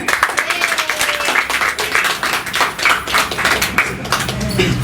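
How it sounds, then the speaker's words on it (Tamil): Audience clapping during a Varahi divine wedding ceremony, fairly steady and close, with a voice mixed in over the applause. "உங்களது கைத்தட்டுங்க"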